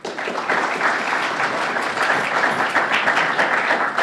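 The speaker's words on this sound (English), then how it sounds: "And your applause is fine at this point." Steady, dense audience applause fills a candidates' debate hall for a 12th District Senate race, a continuous wash of many hands clapping close by with no break and no voices on top.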